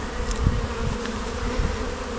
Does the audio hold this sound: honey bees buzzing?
yes